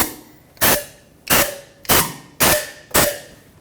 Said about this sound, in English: Blow some compressed air to make sure that nothing actually is there.